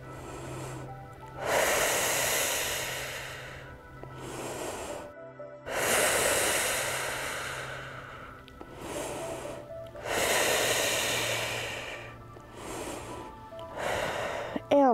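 Slow, deep breathing during a joint-mobility yoga exercise, long audible inhales and exhales alternating in a steady rhythm, close and clear with a low hum underneath.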